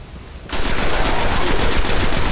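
Rapid automatic gunfire in the video game Destiny bursts in abruptly after a quiet half-second, then rattles on loud and unbroken as a dense stream of shots.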